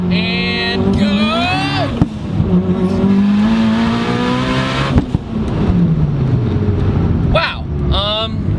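High-boost all-wheel-drive car accelerating hard in second gear, its engine climbing loud and close in a long sustained pull with a gear change partway, while people talk and exclaim over it.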